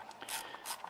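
Ratchet socket wrench working on a 2003 Ford Escape engine during spark plug coil replacement, a couple of quick, faint metallic clicking bursts heard up close.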